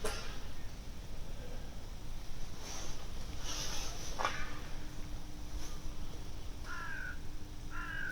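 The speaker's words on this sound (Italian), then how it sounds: "Questa è una cornacchia." A crow caws several times, harsh and fairly close, in short bursts spread across the span over a steady hiss of wind and outdoor background.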